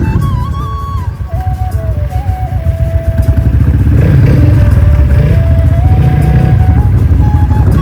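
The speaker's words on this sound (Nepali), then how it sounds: "बाइक कटार्दै आउँदै" A dirt bike rides along a muddy road, its engine loud and close, pitch rising and falling through several revs and gear changes, then holding a strong steady drone.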